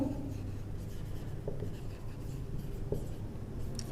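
A pen writes out a math condition while working a Class 10 NCERT cross-multiplication problem, a steady, soft scratching that runs throughout with occasional small taps. No one speaks.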